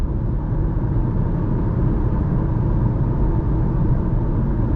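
Tire noise from a 2021 KIA e-Niro electric car rolling over rough asphalt, a steady, loud, low rumbling roar heard from inside the cabin without any engine sound.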